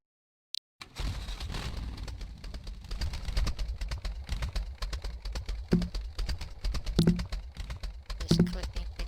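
Sharp computer mouse clicks tap out in a quick, irregular run over a steady low background hum, fairly close and moderately loud, with a few stronger clicks standing out near the end.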